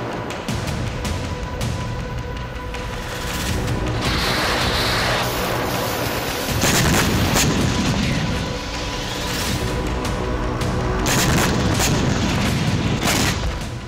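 Repeated deep booms and blasts from bombing and artillery fire on Ukrainian forces in Kursk, heavy and continuous with dense rumbling and sharp bursts overlapping throughout.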